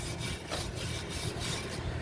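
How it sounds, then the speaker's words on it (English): Rust being rubbed off a seized front brake caliper on a Hyundai Sonata, giving a steady, close rasping scrape that repeats in short strokes without pause and with no voices. "there's a lot of rust falling to the ground right here. You know, as I'm"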